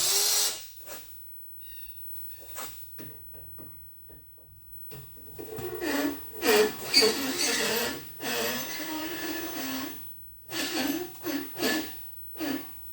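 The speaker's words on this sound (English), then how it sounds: "And just a slow speed with the battery drill." A battery drill turns a lubricated bit in short bursts at a low, uneven speed, starting and stopping repeatedly up close, during a power hacksaw rebuild.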